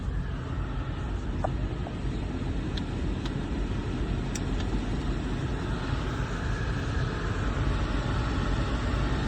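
A 2020 Ford Fusion hybrid with a 2.0-litre engine runs at a steady idle, giving a constant low hum with faint clicks and no voices.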